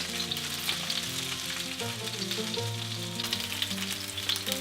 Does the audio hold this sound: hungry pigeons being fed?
no